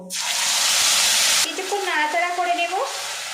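Whole cumin seeds and torn bay leaf pieces sizzle loudly in hot oil in a pan, a dense steady crackle that cuts off halfway, followed by a brief sliding whistle-like tone.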